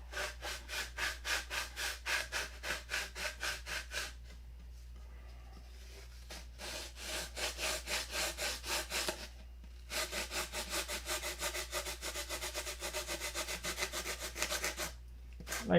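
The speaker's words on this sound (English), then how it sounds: "I just sanded the bulk of the shape in it." Sanding wood to shape a stabilizer: close, rhythmic rasping strokes in quick back-and-forth bursts, broken by a few short pauses, with no talking.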